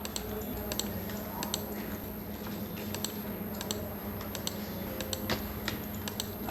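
Steady typing on a computer keyboard, with quick irregular key clicks and occasional sharper taps against a faint constant background hum, filling data into a table in LibreOffice Writer.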